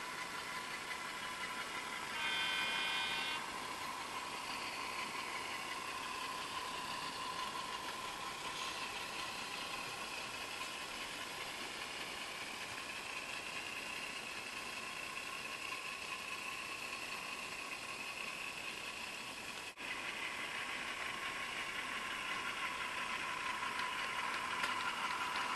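An 830 class diesel locomotive hauls a goods train on a model railway. It makes a steady, faint engine drone with a mechanical whine and light rattling, continuous for the whole stretch and with no voices.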